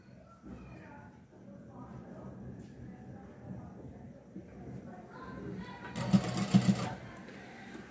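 A sewing machine stitches lace onto a dress neckline, a short loud burst of rapid mechanical stitching near the end, after a stretch of quiet talk.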